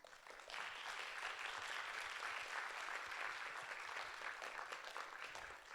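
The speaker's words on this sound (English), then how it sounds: "Let's give another round of applause to our panelists." A round of audience applause for panelists at a school event, rising quickly after a quiet start and holding as steady, fairly distant clapping to the end.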